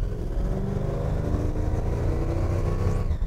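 Supercharged 1956 Ford F100 pickup engine revving at half throttle, a steady deep rumble held throughout at moderate distance.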